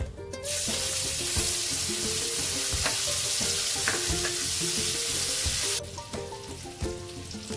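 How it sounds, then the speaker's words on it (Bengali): Chopped onion sizzles and crackles in hot oil left from frying pomfret, with a dried red chilli and nigella seeds in the pan. Frying is steady and close, with occasional stirring clinks, then eases near the end. "পেঁয়াজ হালকা ভাজা হয়ে গেছে"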